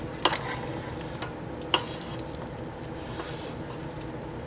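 A rubber spatula softly scrapes the sides of a mixing bowl of chocolate cake batter with cocoa powder. The scraping sits under a steady background hiss, with a couple of faint taps.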